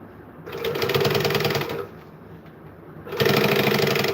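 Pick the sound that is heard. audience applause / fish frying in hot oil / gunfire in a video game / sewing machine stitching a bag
sewing machine stitching a bag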